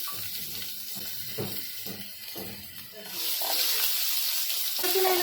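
Minced ginger, garlic and coriander stems hiss and sizzle with a bay leaf in a small amount of hot oil for a rajma curry. The frying is close and steady, a voice talks over it early on, and the sizzle swells louder toward the end.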